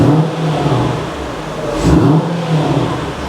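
A Mercedes SLK55 with a 5.5 litre V8 revs once at idle, the engine note swelling near the middle and settling back into a steady, close, throaty burble.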